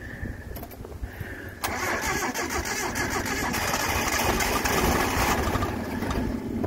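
A Datsun 720 ute cranking as it tries to start: a brief whirring start attempt, a pause, then sustained fast rhythmic cranking of the engine, close and loud, with no talking.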